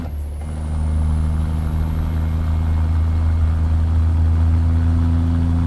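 A heavy truck engine in American Truck Simulator idles loudly and steadily, a deep low rumble with a faint high whine above it, no talking.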